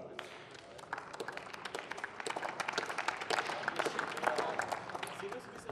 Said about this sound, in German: zu Ihrer Linken hat man auch geklatscht